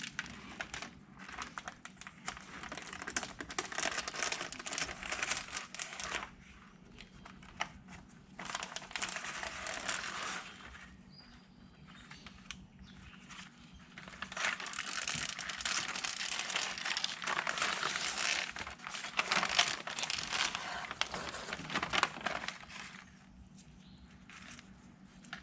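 Adhesive backing peels away from aluminum-faced sound insulation in a 1966 Volkswagen Split Bus, a long crinkling, crackling rustle in bursts with brief pauses between pulls.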